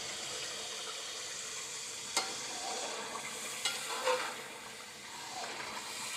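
Liver (kaleji) sizzling in a pan with garam masala and fenugreek, a soft steady hiss and sizzle with a few sharp clinks and stirring sounds.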